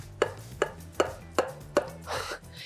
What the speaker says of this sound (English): You can see the fat kind of coming up as I'm cutting into it